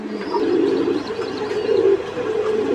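Red bar pigeons, a pair with their chicks, coo in a steady, low, rolling murmur that carries throughout at close range, with faint chirps above and no speech.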